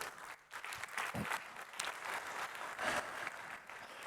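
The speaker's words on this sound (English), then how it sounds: "Round of applause for our panelists." A crowd applauds steadily for panelists taking the stage at a conference, a dense wash of clapping heard from some distance, fairly quiet and even throughout.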